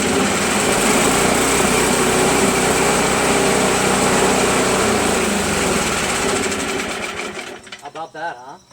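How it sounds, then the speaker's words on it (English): A Craftsman push dual-stage snow blower engine with electric start runs steadily and loud at close range, a dense continuous drone that cuts out near the end, leaving brief quieter sounds. "Nothing wrong with that engine."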